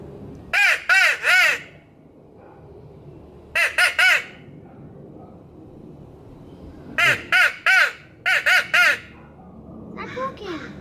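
Caw calls made to crows in groups of three, with a pause between each group: loud, close, harsh squawks. A fainter squawk follows at the end, and voices come and go between the calls.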